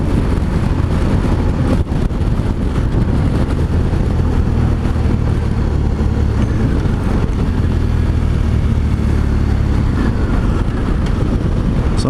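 BMW 1200 GSA motorcycle on a demo ride, its engine and road rush forming a steady, loud broadband roar with wind buffeting across the whole stretch, no voices.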